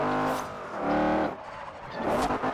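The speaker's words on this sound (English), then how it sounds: "I'm sitting here drifting around all these corners" A car drifting around corners in the video game Forza Horizon 2, its engine revving in a steady harmonic drone that rises and falls, with hints of tire squeal as it slides, loud and close throughout.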